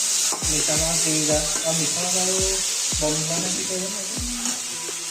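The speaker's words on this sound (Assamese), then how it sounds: "এতিয়া বনাইছে ভাজি ইয়াতে চিমলা মিৰ্চ গাজৰ আৰু শুকান মাছ শুকান মিঠা মাছ" Capsicum, carrot and dried sweet fish stir-fry in a pan, with a steady sizzle under repeated sharp scrapes of a spatula stirring in an irregular rhythm, close by, with no talk.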